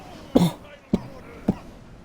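Three short, sharp coughs from a man who is straining his voice on a game stream, spaced about half a second apart, close and fairly loud against a quiet background.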